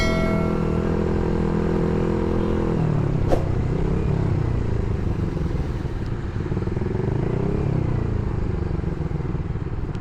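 Suzuki GSX-R150 motorcycle engine while riding through heavy traffic, a continuous loud engine drone with a shift in pitch partway through, steady from start to finish with no talking.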